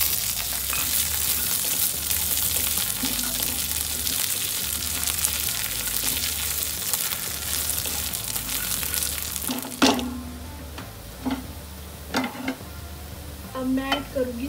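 Boiled potatoes sizzle and fry steadily in hot oil, with occasional stirring scrapes and a few clinks of a utensil against the pan near the end.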